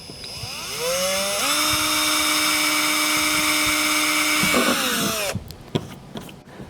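A power drill spins up to a high whine drilling into a plastic car bumper and holds steady, then winds down, followed by clicks and handling noises nearby.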